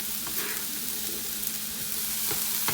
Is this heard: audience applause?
no